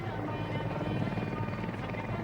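Mi-24 Hind helicopter thundering steadily nearby, a loud, unbroken rotor and turbine roar with a rapid, pulsing beat that holds at full strength throughout.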